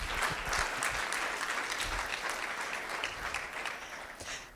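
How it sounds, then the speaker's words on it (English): A conference audience at a speakers showcase applauds in a steady, even wash of clapping throughout, fairly quiet and distant, with no talking over it. "Give her a round of applause"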